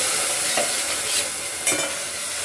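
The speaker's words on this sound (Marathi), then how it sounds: "आता हे वाटलेलं वाटण सगळं ह्या फोडणीमध्ये घालायचं, मस्त परतून घ्यायचंय." Ground spice paste sautéing in hot tempering, a steady close sizzle with brief stirring scrapes at two points, no voices.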